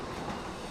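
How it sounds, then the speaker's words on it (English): A steam locomotive rolls along a railroad, a dense continuous rumble and clatter that stays loud and close for under a second. "Locomotives driven by steam."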